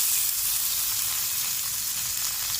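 Fish such as whiting, horse mackerel or anchovy frying in hot oil in a pan, giving a steady, dense crackling sizzle that holds evenly throughout with no talking.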